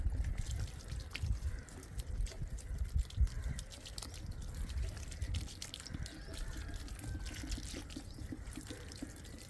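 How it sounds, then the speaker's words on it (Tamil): Water being poured onto a potted flowering plant on a terrace garden, a steady trickling and splashing that runs the whole time, close and fairly quiet, with a low rumbling background underneath. "இப்போ நம்ம தண்ணி ஊற்றி விட்டுருலாம்"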